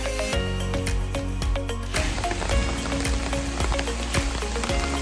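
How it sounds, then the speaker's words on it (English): Rain falls steadily on a garden in a summer storm, a dense patter of drops striking surfaces with close, irregular taps, continuous and fairly loud with no talking. "It's starting to rain."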